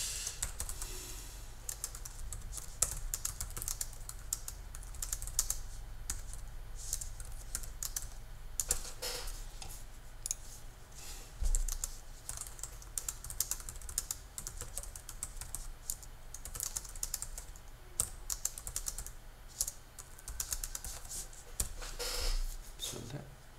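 Typing on a Mac computer keyboard, a steady run of quick, close key clicks lasting over twenty seconds, with a faint murmur in the background.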